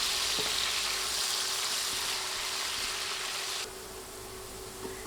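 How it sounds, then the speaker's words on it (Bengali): Steady, bright sizzling of potatoes frying in oil, which drops noticeably quieter partway through, with a few faint clicks of stirring. "এবার নেড়ে চেড়ে কিছুক্ষণ আলু তেলে ভেজে নিব"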